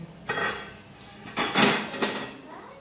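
A metal serving spoon scrapes and clinks against a pot and plate as mixed dal is dished out in a home kitchen, with a few distinct clanks between quieter stretches.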